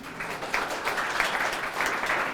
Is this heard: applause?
yes